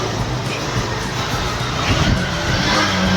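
A repaired Honda Shine motorcycle engine idles quietly close by, giving a steady, even low hum with a soft broadband wash and no knocking or revving.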